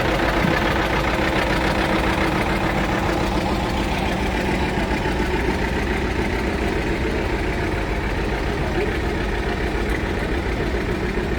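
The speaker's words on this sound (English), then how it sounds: "1954 John Deere R, owned by the museum and driven by Rick Peterson." A 1954 John Deere R tractor runs in a parade at a farm show in Wolford, North Dakota. Its engine makes a steady, loud, throbbing chug that continues unbroken throughout, with no talking.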